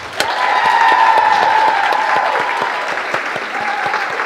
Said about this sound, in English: And can we have a round of applause for Rachel of Rock?